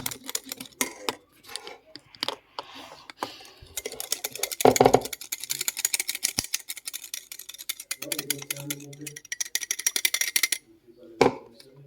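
Egg and flavouring are beaten together in a mug for mug cookie batter, making rapid, close ticking and clattering strokes that run for several seconds, with brief bits of speech.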